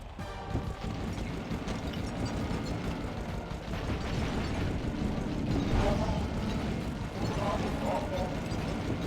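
Missiles explode against an armored boss in the Sly Cooper and the Thievius Raccoonus video game, a dense, continuous roar of blasts and rumbling game sound that stays loud throughout, with a voice heard talking in the mix.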